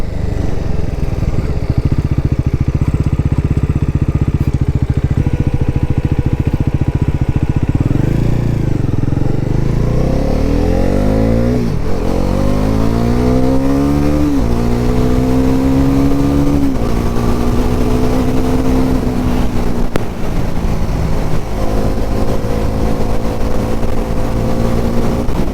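A new 2024 Bajaj NS400z motorcycle engine runs steadily, then revs up in several rising sweeps that climb and hold, loud and close under constant wind rush, with no talk.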